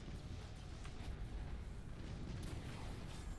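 Distant, muffled rumble of a warship bombarding an outpost in the Battlefleet Gothic Armada space strategy game, with continuous low explosions and faint bursts rolling on without pause.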